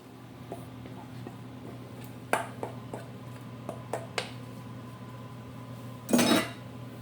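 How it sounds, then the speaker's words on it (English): A wet batter is being stirred into a flour mixture in a bowl, with a quiet series of utensil clinks and taps against the bowl and a louder scrape near the end. "you're going to start to mix that in. Incorporate that in with your flour mixture."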